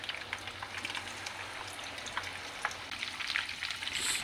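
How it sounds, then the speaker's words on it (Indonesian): Mendol tahu, round tofu balls, frying in oil over medium heat, giving a steady soft sizzle with scattered crackles and pops that grow a little busier toward the end. "Nah, ini kita goreng sampai matang."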